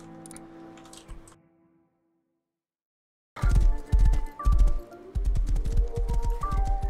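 Hooves of a horse in the video game Rust clip-clop in a quick uneven rhythm, close and loud, following a short stretch of near silence.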